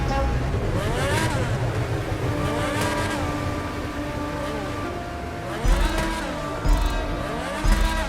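A car in GTA 5 Online launches hard off the start, engine revving up through repeated gear climbs with rising and falling whine, loud and continuous, with sharp bursts and tire noise toward the end.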